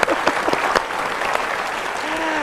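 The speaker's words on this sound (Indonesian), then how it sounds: "Boleh kasih tepuk tangan dulu dong." An audience at a motivational talk applauds in a steady wash of clapping that runs the whole time. A few louder individual claps stand out near the start, and a faint tonal sound appears near the end.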